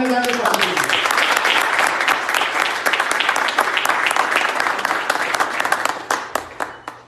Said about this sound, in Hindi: जोरदार आप तालियां बजाएंगे।